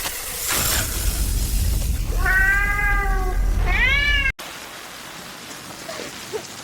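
A cat meows twice, drawn-out and close, over steady rain falling on a surface, followed by a sharp break and quieter rain afterward.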